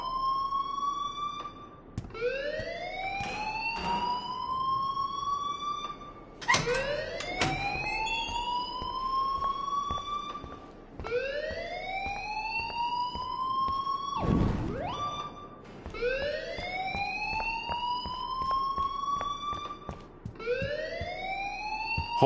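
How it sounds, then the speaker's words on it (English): An electronic alarm in the video game Life is Strange wails continuously in repeating rising sweeps, loud and close, each cycle climbing in pitch before restarting, with brief clicks and a thump midway. "please turn off that alarm since that's your job"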